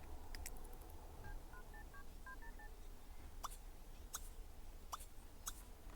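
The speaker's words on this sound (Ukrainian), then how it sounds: "Так, значить, у нас ціль поговорити по телефону з тобою." Telephone keypad dialing in The Sims 3, a quick series of short electronic tones followed by several sharp clicks, faint over a quiet background hum.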